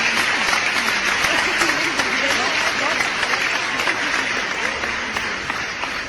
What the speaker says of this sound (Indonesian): Gitu, tepuk tangan.